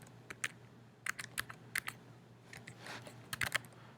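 Computer keyboard keys tapped in short irregular bursts while entering IP scope settings, close and fairly quiet over a low steady hum, with no talking.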